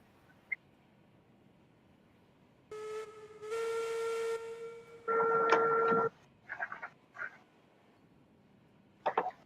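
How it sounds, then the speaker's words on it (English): A steam locomotive in the Railroads Online game sounds its whistle, a long steady tonal blast followed by a second brighter, louder one, then a few short hissing puffs, faint and distant in an otherwise quiet scene. "we hear it whistle twice, because we hear it whistle in the game and then through Linny's speakers"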